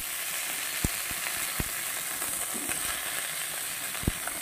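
Broccoli fries lightly in a pan, giving a steady hiss of sizzling oil with a few sharp clicks or taps scattered through, and no voices.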